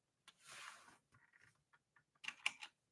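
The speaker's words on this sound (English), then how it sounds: "Let's type in ES" Faint, close keystrokes on a computer keyboard, a short flurry of light clicks followed by a few scattered taps and a slightly louder final cluster.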